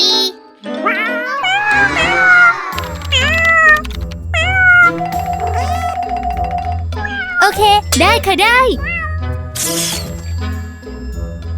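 Several cats meowing repeatedly in bright, rising calls amid playful jingling chime effects and a steady beat, with a voice speaking briefly between them.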